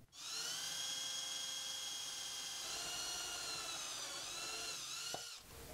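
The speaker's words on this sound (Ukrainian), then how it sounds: "Свердлимо отвори." High-pitched whine of a small drill boring holes, steady with slight pitch wobbles, ending in a brief clatter as it stops.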